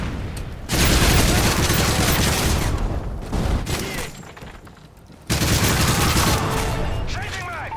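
Automated sentry gun in Modern Warfare 3 blazing away in dense, rapid gunfire bursts amid chaotic combat noise, loud and sustained with a short lull midway, as in-game voices call out over the shooting.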